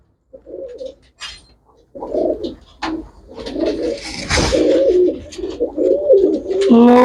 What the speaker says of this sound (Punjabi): ਕੱਲਾ ਕੱਲਾ ਕਬੂਤਰ ਚੈੱਕ ਕਰਾ ਦੇਣਾ